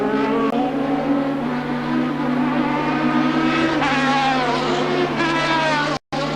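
Formula Pacific race cars howl at the 1991 Wellington street race, their engines a loud continuous whine that shifts pitch as they pass, with a commentator's voice running underneath.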